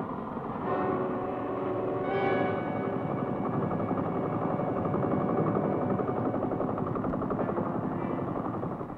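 A U.S. Army military helicopter flying over jungle fills the whole stretch with a loud, steady rotor drone and engine roar, close and continuous, with no voices.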